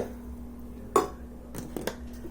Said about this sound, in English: We're going to stir it all around.